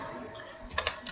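Typing on a computer keyboard while entering text into a spreadsheet: several quick, close key clicks in a short burst, with light background noise.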